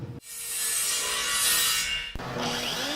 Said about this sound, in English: here we are at the router table, and I have a 1/4 inch round over bit, and I'm running it through